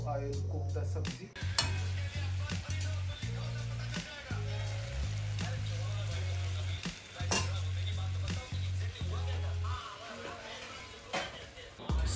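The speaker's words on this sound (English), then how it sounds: "Now I will cook the sabzi." Sabzi frying in a pan on a home stove, with a quiet sizzle under repeated scraping and clinking of a spatula as it is stirred, plus a low steady hum in the background.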